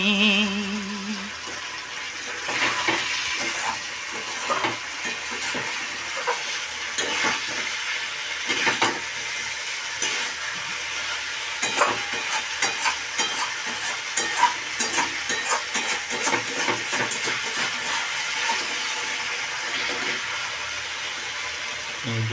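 Spice paste sautéing in a pan with added water for an egg curry, a steady sizzle running throughout with repeated scraping stirs of a spoon, close and continuous, with a faint song in the background at the start.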